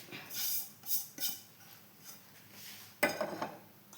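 A pan is set on a gas stove in a home kitchen, making faint metallic clinks and scrapes, with one sharper clank near the end.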